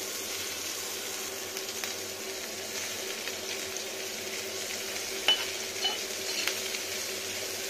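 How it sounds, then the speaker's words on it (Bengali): Chopped onion frying in a pan gives a steady, moderate hiss through the whole stretch, with a few faint clinks of a utensil and no speech. "এটা হচ্ছে পেঁয়াজ কুচানো। এক পিঠ ভাজবে।"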